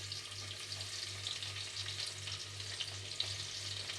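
Chopped onions frying in hot ghee with whole spices in a pan, a continuous close sizzle with crackling pops and a low steady hum underneath.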